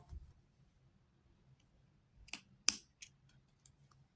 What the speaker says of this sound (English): Then one more time, and then I'm just gonna cut it off.